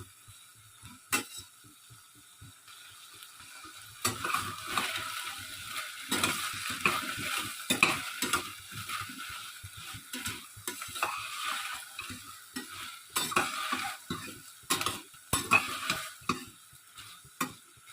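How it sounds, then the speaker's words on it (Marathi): Chopped onion and mixed vegetables sauté in a pan for veg pulao, with a soft continuous sizzle and repeated scraping stirs of a spoon against the pan, close and fairly quiet. "कांदा असा छान भाजीसोबतच आपण 2 मिनिटं भाजायचा आहे."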